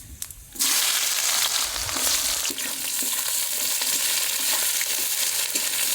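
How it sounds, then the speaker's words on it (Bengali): Whole cumin, whole garam masala, dried chillies, bay leaves and chopped onion hit hot oil for a duck curry, bursting into a loud, steady sizzle after a brief quiet start. "ফোড়নে দেবো গোটা জিরে, গোটা গরম মশলা, আর শুকনো লঙ্কা, তেজপাতা। ও দেবো কুচনো পেঁয়াজ।"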